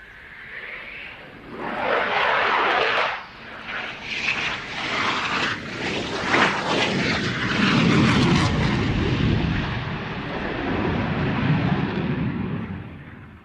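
A Eurofighter Typhoon jet roars through an airshow display, its engine noise swelling and fading in loud broad surges over about thirteen seconds.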